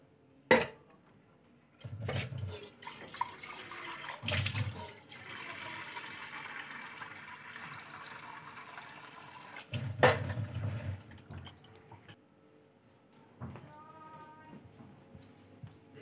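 Water running from a tap into a container while fetching water to cool something, a steady broadband rush lasting several seconds with brief clatters and knocks at the start and near the end.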